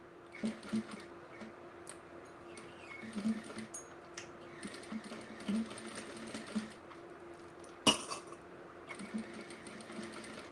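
A sewing machine stitches a quarter-inch seam around a bag gusset, running in short, soft mechanical bursts with quiet pauses between and a sharp click near the end.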